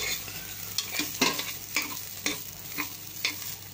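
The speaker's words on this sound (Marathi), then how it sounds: "त्यावर आपण आपले धुतलेले बासमती तांदूळ टाकून छान परतून घेणार आहोत" Washed basmati rice is sautéed in a pan with cardamom and cloves, a soft sizzle under repeated scraping strokes of a spoon stirring at a steady, unhurried rhythm.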